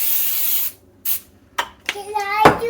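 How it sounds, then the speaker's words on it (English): Two short bursts of cooking spray hissing close by onto a hot waffle iron, followed by a voice talking. "We're first going to spray the waffle iron"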